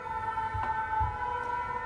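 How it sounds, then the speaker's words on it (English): Emergency vehicle sirens wail steadily in the distance, holding a sustained tone with faint traffic rumble beneath; no one speaks. "Because the sirens, but they're different sirens."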